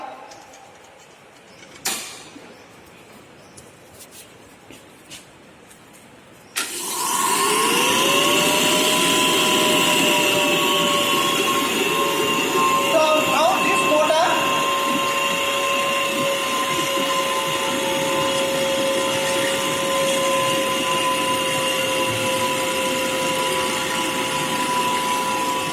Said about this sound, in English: Let me start the motor.